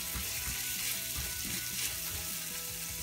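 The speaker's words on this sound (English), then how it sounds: "this has been sauteing for about 2 minutes" Vegetables sauté in a skillet with a dense, even sizzle and faint bubbling, with soft irregular knocks of stirring underneath, steady and close.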